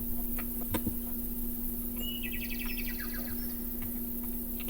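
A baby bird chirps in the King's Quest 2 remake, a short run of quick high chirps in the middle, fairly faint over a steady hum and a few clicks.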